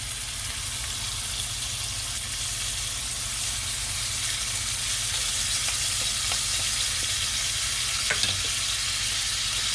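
Food sizzles steadily in a hot pan right after being flipped, a sun-dried tomato sauce on top, with a constant close frying hiss and a few faint clinks throughout.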